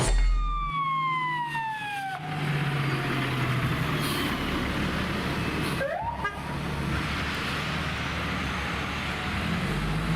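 A Los Angeles Fire Department fire engine's siren wails and winds down, a horn blasts, and the siren whoops up again. The truck sounds loud and close over road rumble, answering a vehicle fire call at Mission Road.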